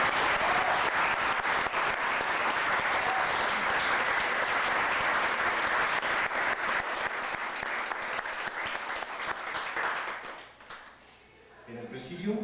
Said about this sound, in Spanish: para quien solicito un fuerte y merecido aplauso